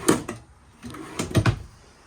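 Two more pull-out silverware drawers in a 2020 East to West Della Terra 25KRB travel trailer slide and bump shut, giving a few soft, close knocks and rattles with quiet gaps between them and no talking.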